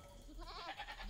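A single short, faint bleat from a sheep in a video game, wavering briefly against quiet background noise.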